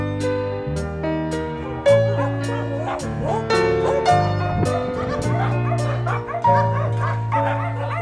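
Dogs bark repeatedly at an animal shelter in an Armenian village, the sharp yips and woofs landing at steady intervals over a continuous tonal background.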